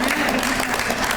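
Audience applause from a community celebration gathering, a steady dense wash of clapping lasting just over a second at an even, fairly loud level.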